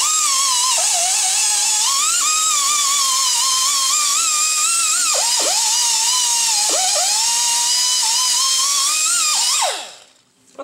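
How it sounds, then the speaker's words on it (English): A worn Scotch-Brite abrasive pad spun on a power tool scrubs rust off a truck brake part during a brake kit install. It makes a loud, steady high whine with harmonics that briefly dips in pitch under load, then stops abruptly near the end. "So let's try the Scotch-Brite."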